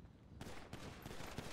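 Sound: ceramic pistol gunfire in a GTA V roleplay video game

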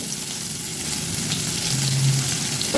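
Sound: pointed gourd and yardlong beans frying in oil

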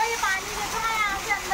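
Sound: waterfall

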